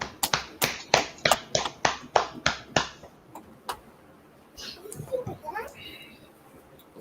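A small audience at the end of a class gives a quick burst of sharp, evenly spaced claps, about a dozen in a steady rhythm, then tapers into scattered taps and light background voices.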